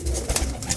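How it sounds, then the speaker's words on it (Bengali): Pigeons coo softly in a loft at night, low rounded calls overlapping close by, with faint rustling and no talking. "এই দেখেন পায়রা সব মানে রাতে অন্ধকারে করছি আর পায়রা ঘরেই আপনাদেরকে পায়রা দেখাচ্ছি।"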